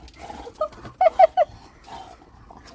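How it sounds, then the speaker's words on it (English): A dog gives a few short, high yelping barks in a quick cluster of three after a single earlier yip, close and fairly loud with quiet gaps between. "What kind of bark is that?"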